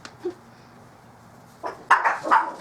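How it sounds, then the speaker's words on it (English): A few sharp dog barks and yips ring out near the end after a quiet stretch, somewhat distant and excited. "That's my dogs. They're crazy, but I love them."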